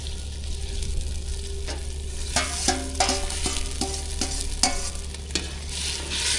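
Hilsa fish curry cooks on a fishing boat with a low sizzle under repeated rhythmic scrapes and clinks of a utensil stirring against the pot, close and distinct, about a dozen strokes in a row.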